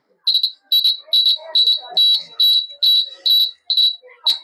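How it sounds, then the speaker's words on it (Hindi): Alarm of a student's earthquake warning science model, sounding as a run of about nine short, piercing electronic beeps in a steady, even rhythm, loud and close. "एटा अलार्म टा एमती बाजिबो"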